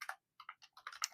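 Keys clatter on a computer keyboard during fast Python coding: quick, irregular bursts of close, quiet clicks with short pauses between them and no talking.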